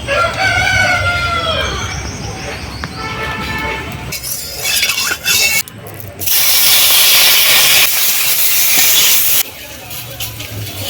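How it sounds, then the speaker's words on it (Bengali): Mustard seeds hit a hot wok and burst into a loud, steady hiss of sizzling for a few seconds midway, after a rooster crows nearby and with some talk and household noise around it. "এদিকে কড়াই গরম হয়ে গেছে কড়াইয়ের মধ্যে দিয়ে দেবো সর্ষে"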